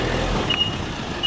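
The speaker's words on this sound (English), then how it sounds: "giant truck." Giant truck rolling past nearby, a short loud low rumble of engine and tyres with a brief high tone partway through and no talking.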